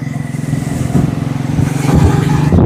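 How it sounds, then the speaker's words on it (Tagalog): A motorcycle rides along a path toward a farm, its engine close and loud with a fast pulsing putter that swells slightly as it moves along. "Buti na lang pasok ho yung motor."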